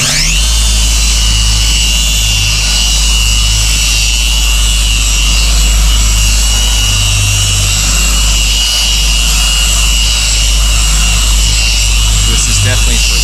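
A Rupes or Flex XFE dual-action polisher whirs continuously and loud at close range while polishing a car's paintwork, with a steady motor drone throughout.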